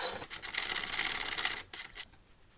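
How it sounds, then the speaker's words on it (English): A ratchet and socket loosen a clamp on a RZR side-by-side, a rapid close-up clicking ratchet run lasting under two seconds, followed by a few softer taps and then quiet. "This is the ratchet and socket out of my toolkit. So I'm just taking this clamp off"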